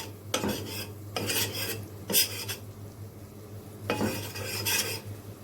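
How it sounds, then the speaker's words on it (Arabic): A spoon scrapes and stirs white sauce seasoned with salt, pepper and nutmeg in a pan, in short, irregular bursts over a faint steady background hum. "انا كده بقلب فيها اهو"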